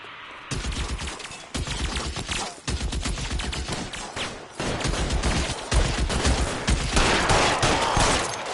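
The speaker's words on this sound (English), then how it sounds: "You guys aren't gonna go quietly. Open fire!" Sustained, loud gunfire from a shootout in the video game L.A. Noire, with repeated volleys of rapid shots and short gaps between them, continuing for several seconds.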